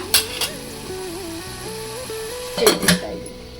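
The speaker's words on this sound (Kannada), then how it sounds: "ನೋಡಿ ಇಷ್ಟು ಉಪ್ಪು ಹಾಕಿ ಈಗ ಒಂದು ನಿಮಿಷ ಮುಚ್ಚಿಟ್ಬಿಡೋಣ." A lid goes onto a pan of radish palya in a home kitchen, with a couple of light metallic clinks early and then a louder clattering clank as it settles, over soft background music.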